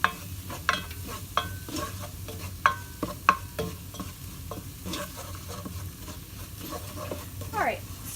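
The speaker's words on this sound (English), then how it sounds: "Alright, so now that I have been cooking my roux for over a minute now" Roux cooking in a pan, a continuous soft sizzle with repeated scraping strokes of a spoon or whisk stirring through it, close up and steady.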